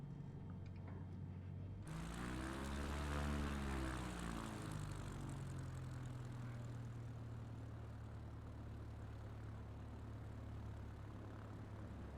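A propeller airplane engine drones steadily and loudly on a simulated landing approach with flaps down, a flight-simulator touch-and-go in São Paulo. The pitch swells briefly near the start and then holds a continuous hum with no talk.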